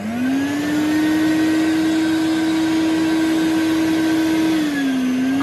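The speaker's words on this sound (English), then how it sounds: "the sander just turns this on and off continuously." Dust extractor paired with a Max XT sander spins up from quiet into a loud, steady whining roar, holds for several seconds, then begins dropping in pitch as it powers down, with no talking.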